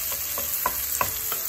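Carrots and onion sizzle gently in a pan over medium heat while a utensil scrapes and stirs in a few regular strokes.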